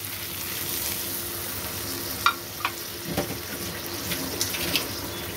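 Water poured over boal fish sautéing in mustard paste in a pan, a steady low sizzle with a few sharp crackles and splashes, close and unaccompanied by speech.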